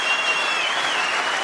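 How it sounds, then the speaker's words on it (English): A packed Crucible crowd at a snooker final applauds and cheers in a dense, steady burst of clapping that fills the hall. "tremendous cheer from the packed Crucible crowd"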